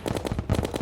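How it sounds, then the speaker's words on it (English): Rapid automatic fire from the Minishark gun in Terraria 1.3.2 on PC, loaded with meteor shots: a steady, loud stream of evenly spaced shots, about a dozen in under a second, with no talking. "let's try the mini shark out."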